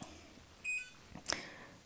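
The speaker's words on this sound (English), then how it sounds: "that's my dog's dog ball throwing toy that just beeped" Electronic beep from a dog's ball-throwing toy indoors, a brief two-tone chirp followed by a short burst of clatter, fairly quiet in a calm room.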